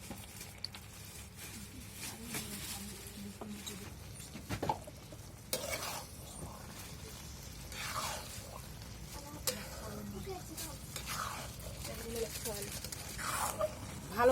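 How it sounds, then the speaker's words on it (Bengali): Chicken being stirred into biryani masala in a pot, with a steady scraping patter and soft sizzle running throughout and occasional louder clinks of the spoon against the pot; a voice speaks over it now and then. "ভালো করে নেড়ে নেব, এটাকে মিক্স করে নেব এর সঙ্গে।"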